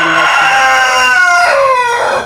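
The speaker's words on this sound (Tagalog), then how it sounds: "Grabe yung manok tumahol." A rooster crows loudly and close by, one long drawn-out call that rises and then trails off.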